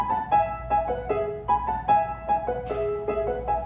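Short repeated two-note figures imitating hunting horn calls, bouncing in quick rhythm, played as part of a musical piece.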